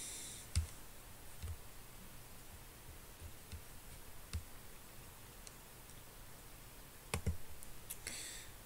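Computer mouse clicking at a desk during CAD design work, sparse sharp clicks, single and in quick pairs, spaced out over quiet room tone.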